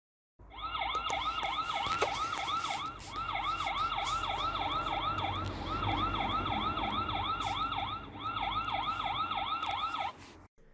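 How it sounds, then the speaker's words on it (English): A solar-powered security camera's built-in siren sounding a test, a loud, steady electronic wail that sweeps up and down rapidly, with brief gaps, heard alone for about ten seconds. "The siren is fairly loud."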